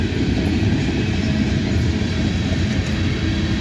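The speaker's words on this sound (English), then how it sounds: "So we know this train's going up north" A Canadian National freight train hauling loaded cement cars rolls past close by, a loud continuous rumble and rattle of wheels and wagons with no break throughout.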